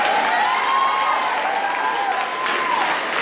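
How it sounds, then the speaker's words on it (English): Applause from students and adults at a high school homecoming coronation, steady and dense for about three seconds, with a faint whistle-like tone running through it. "let's give them a round of applause."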